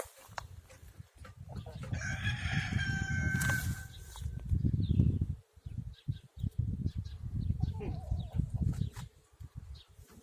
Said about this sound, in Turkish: burası da hep horoz dolu